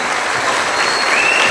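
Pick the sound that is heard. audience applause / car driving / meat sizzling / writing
audience applause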